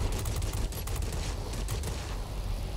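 Aircraft cannon fire in the World of Warplanes flight game, a dense, steady roar of rapid shots with a low engine drone underneath, loud and continuous for the whole stretch.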